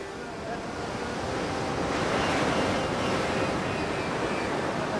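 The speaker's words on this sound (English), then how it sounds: "To get off the beach, you've got to get through that surf, and that means picking the right wave." Ocean surf breaks on a beach along the Coromandel Coast, a broad continuous roar of waves with wind noise, swelling slightly and holding steady throughout.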